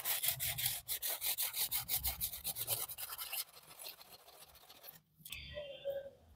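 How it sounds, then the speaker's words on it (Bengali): A burnt nonstick pan is scrubbed with a nylon scrubber in rapid, rhythmic back-and-forth rasping strokes, close and fairly quiet, then a brief pause and softer rubbing. "এবার লাইলন ছোবা দিয়ে আমি ননস্টিকটাকে পরিষ্কার করব।"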